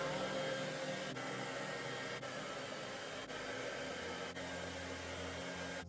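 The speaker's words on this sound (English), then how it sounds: "I'm just gonna blow dry my hair and let's see the final result" A hair dryer blow-drying freshly colored hair runs as a steady, loud broadband whoosh with a constant motor whine, close to the listener and unbroken for the whole stretch.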